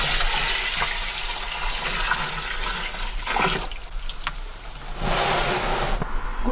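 Grape juice is dumped into a container during homemade winemaking. The splashing and gushing of liquid is loud and close and runs for the whole stretch, with brief surges.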